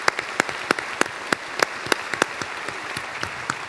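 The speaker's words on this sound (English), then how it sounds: "we're going to give them a round of applause anyway for Joyce and Judson" Audience applause for performers at a cellist's event, a steady patter of distinct hand claps that sounds thin and sparse, like a small group clapping at close to moderate distance.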